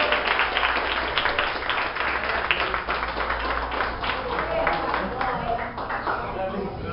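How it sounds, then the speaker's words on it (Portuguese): A church congregation claps together during an anniversary worship service, steady dense applause running throughout with voices mixed in. "Aplauda o Senhor."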